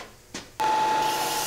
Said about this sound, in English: And sand the entire edge.